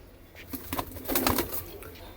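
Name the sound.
white pigeon with black wing marks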